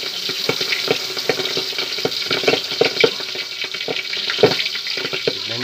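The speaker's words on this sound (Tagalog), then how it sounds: "Talagang pumuputok yung kawali kung walang sakit yan guys." Bangus (milkfish) frying in a home kitchen pan, a steady sizzle peppered with sharp oil pops and crackles throughout, close and moderately loud.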